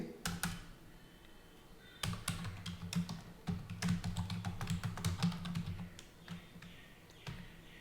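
Typing on a computer keyboard while writing C code, with quick irregular key clicks in bursts, close and clear, with no talking.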